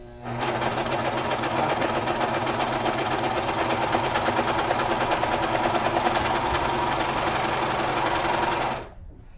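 A serger fitted with a cording foot stitches through denim at steady speed, giving a dense, continuous mechanical whir with a fast rhythmic clatter for about eight seconds before stopping abruptly.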